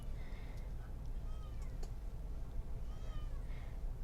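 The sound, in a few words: cat meowing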